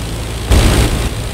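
The engine of an Albatros D.Va biplane in a WWI air combat flight game, a loud continuous low droning hum that swells suddenly halfway through and holds steady, with no voices.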